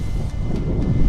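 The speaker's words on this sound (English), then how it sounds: "Apologies if it's windy." Wind buffeting the microphone on the North Norfolk coast, a loud, steady low rumble with gusty swells throughout.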